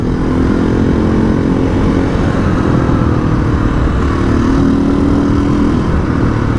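Sherco 500 ADV adventure motorcycle cruising on a country road near Neerim East, its engine droning steadily and loudly throughout with wind rush and a slight change in pitch partway through.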